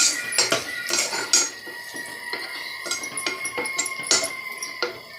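A spoon stirs tamarind and manathakkali greens in a cooking pot, giving repeated metallic clinks and scrapes in an irregular rhythm, close and fairly clear, with no talking.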